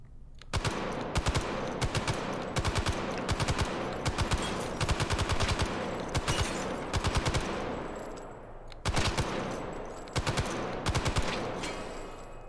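An M60 machine gun fires repeated short bursts of about three rounds, loud and close, the sharp reports in quick clusters separated by brief pauses, with echoing decay after each group.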